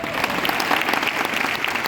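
A seminar audience claps in steady, dense applause that fills the room at an even level from start to end, with no voice breaking through.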